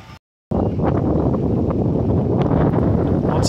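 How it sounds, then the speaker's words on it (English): Loud, continuous wind buffeting a microphone, a dense low rumble with gusty fluctuations after a brief silence at the start. "Once again, I'm sorry for the wind."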